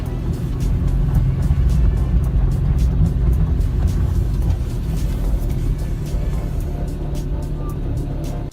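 A car engine runs at a steady, loud idle close by, with a continuous low rumble and faint ticking over the top.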